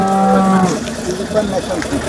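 A dairy cow at a cattle market lets out one loud, close, low moo that fades into background noise.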